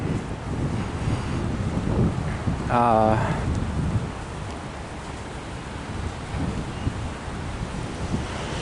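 Ocean waves and strong wind at St Kilda beach in Melbourne give a steady, close roar of wind buffeting the microphone over the surf, with a brief voice-like sound partway through.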